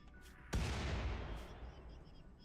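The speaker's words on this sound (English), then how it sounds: "Mortars are so insane." A single heavy mortar blast booms in the video game Rimworld, a sudden sharp impact followed by a rumbling decay that fades over two seconds, with a faint voice just before.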